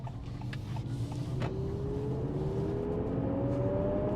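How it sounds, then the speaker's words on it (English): A low engine drone fills the cabin of a Honda CR-V plug-in hybrid as a smooth, rising synthetic engine tone from the car speakers climbs steadily in pitch, steady and continuous like gentle acceleration. "it's a digital engine noise"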